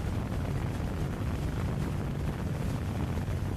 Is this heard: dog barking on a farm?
no